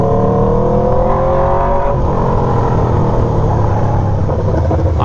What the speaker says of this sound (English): Like right now I can't hear nothing except for this bike.